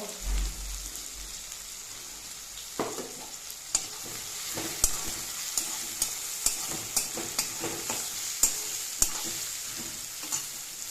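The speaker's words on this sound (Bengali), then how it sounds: "পেঁয়াজগুলোকে ভেজে নেব, লো হিটে রেখে পেঁয়াজটাকে ভেজে নেব।" Onions fry on low heat for mutton kosha, a soft steady sizzle with sharp spoon or spatula taps against the pan coming at a regular pace through the second half.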